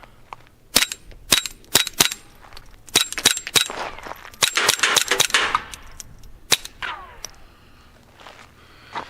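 Rapid suppressed .22 gunshots from a firearm fitted with a Banish 22 suppressor firing Federal rounds at a range, a series of sharp close cracks in an irregular string with metallic action clicks between shots.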